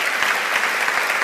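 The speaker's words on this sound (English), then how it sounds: "I'll let you get your applause here" Audience in a lecture hall clapping continuously, a dense, even patter of many hands throughout.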